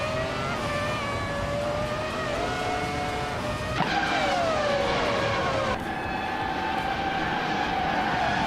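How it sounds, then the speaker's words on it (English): Race cars launching at the start of a video game race at Dubai International, including a 2000 Ferrari F1, a loud continuous whine of several engines with pitch rising and dropping through gear changes as the cars pull away. "the race is underway at Dubai International. But Ghost Megame is starting on pole, driving a classic 2000 Ferrari F1"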